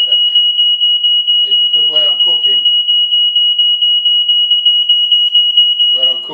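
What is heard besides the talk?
smoke alarm beeping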